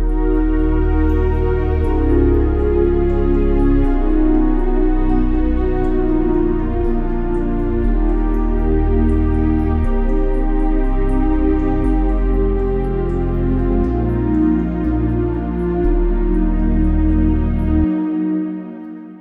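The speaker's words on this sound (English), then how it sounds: "I have created a little chord progression, which sounds like this." Chord progression played on a piano instrument in Studio One, sustained chords changing every couple of seconds with a deep bass underneath, steady and full, alone without talk, ending abruptly.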